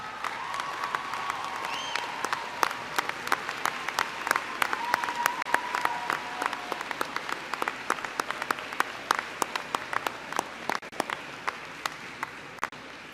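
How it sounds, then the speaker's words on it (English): A large audience claps for faculty at a university spring commencement ceremony, sustained applause that slowly thins into scattered claps near the end. "please extend a round of appreciation, of applause of appreciation for the faculty"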